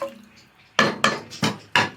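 Chicken and potato pieces stirred in a cooking pot with a metal spoon, four sharp clanks against the pot wall with short pauses between, after a quiet moment at the start.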